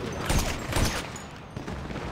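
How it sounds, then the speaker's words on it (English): Scattered gunfire and a couple of heavy booms sound amid a GTA 5 Online firefight, with two stronger thumps early on followed by a rougher, lower-level rumble of distant shots and no talking. "Explosions everywhere."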